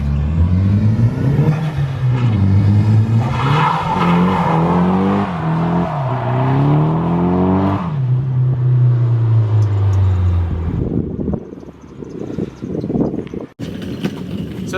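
A drift car drives with its engine revving up and down in rising and falling sweeps, loud and close, before the engine note fades into rougher tire and road noise.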